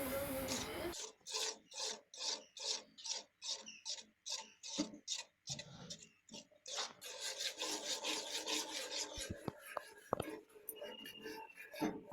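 A spoon scrapes and stirs semolina in ghee in a pan while a pantua sweet is made. The close strokes are rhythmic and repeated, then grow busier and more uneven toward the end.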